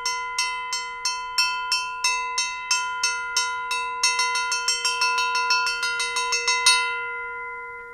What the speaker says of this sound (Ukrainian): Це такі плоскі колоколи.